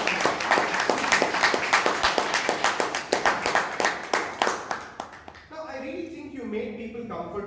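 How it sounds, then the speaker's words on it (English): Audience at a Toastmasters club meeting in Bangalore claps, a run of close, fairly loud claps for about five seconds before it fades and a person starts talking. "for which I want to give you a huge round of applause"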